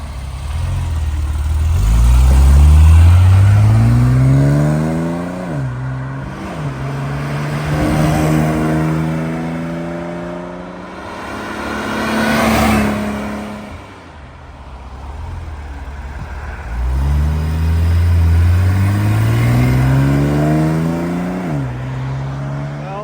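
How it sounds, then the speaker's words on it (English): A 1970 Mercedes-Benz 280 SL roadster passes by, its smooth engine note rising and falling as it shifts through gears, close and loud, followed by a second pass and another approach with a rising whine. "all you heard was a very smooth Mercedes go by"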